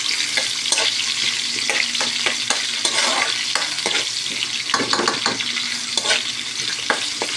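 Ginger and bay leaf sauté in hot cooking oil, a steady close sizzle with frequent stirring clicks and scrapes of a utensil against the pan throughout.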